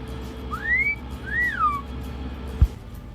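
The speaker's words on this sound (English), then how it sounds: "it has a talking parrot, Pepe." Talking parrot at a Florida harbor inlet whistling two rising-and-falling notes, loud and near, then a single sharp knock.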